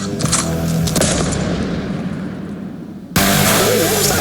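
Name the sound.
gunshot sound effect in football video edit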